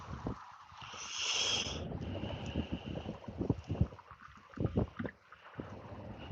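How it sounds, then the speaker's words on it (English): Strong wind buffets the microphone during a bass and panfish fishing outing, a steady roaring rush with louder gusts. Scattered bumps and a few brief voices come in over it. "Wow, it is windy."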